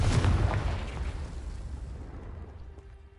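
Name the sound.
Confringo explosive spell in video game Hogwarts Legacy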